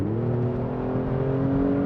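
Kia Stinger GT engine accelerating hard, a loud continuous rising drone from inside the car, steady and strong for the whole stretch with no voices.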